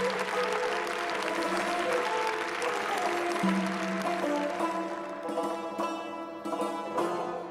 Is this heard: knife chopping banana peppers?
no